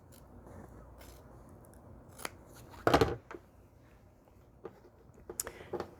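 Scissors cut through fabric for a table runner and matching pillow, heard as a few sharp snips, one louder crunching cut in the middle, in an otherwise quiet room.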